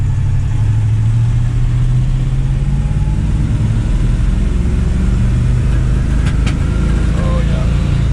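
A restored 1972 Chevrolet C10 pickup's engine drones loudly and continuously from inside the cab, its pitch slowly climbing as it accelerates, with no clear speech.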